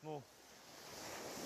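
Ocean surf on a Kuril Islands shore rushes in a steady, broad wash that swells slightly toward the end, after a brief voice at the start.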